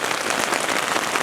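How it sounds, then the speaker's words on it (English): Heavy rain pours down in a dense, even hiss of countless drops hitting surfaces, steady and close with no break or voices. "it's raining very heavily"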